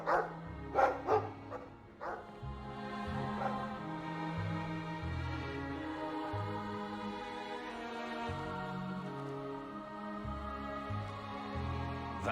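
Dog barking in a video game: a few sharp barks at the start, then whimpering, yipping vocal sounds over a looping musical background.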